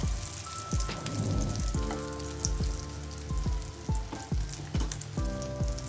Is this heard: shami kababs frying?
yes